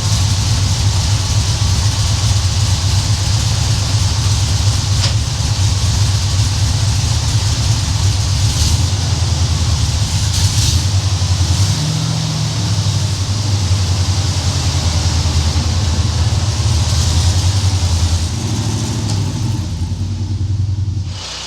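A Volkswagen car engine runs while driving, a constant loud rumble and road drone that stays steady and close for the whole stretch.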